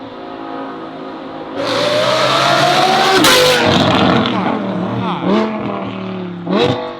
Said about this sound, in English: Why does it sound like an Aventador?